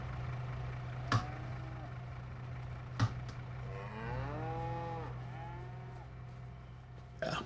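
Cattle in the farming game Farming Simulator 25 give two drawn-out moos with falling pitch, separated by a couple of clicks and a steady low hum, moderately loud and close with no talk.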